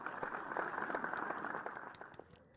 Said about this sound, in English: A round of applause for my fellow graduates.